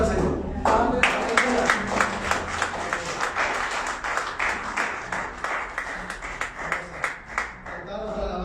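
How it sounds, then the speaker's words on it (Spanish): A church congregation claps in a Spanish-language worship service, many hands striking in a fairly rhythmic, pulsing pattern, loud and close, fading slightly toward the end, with voices mixed in beneath. "Dale un aplauso al Señor."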